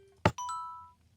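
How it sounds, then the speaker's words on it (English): Minecraft note blocks play the Mario coin chime: a sharp percussive tick followed by two quick bright bell-like tones, the second ringing out and fading over about half a second, clear and isolated. "It's the Mario coin chime."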